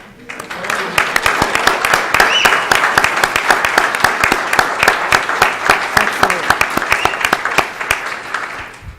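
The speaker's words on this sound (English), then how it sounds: "Can we have you stand so we may applaud you?" Loud, sustained applause from a large audience at a school district governing board meeting, dense clapping that starts abruptly and carries on steadily with a few sharp individual claps standing out.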